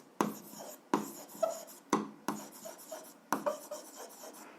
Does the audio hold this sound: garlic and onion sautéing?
no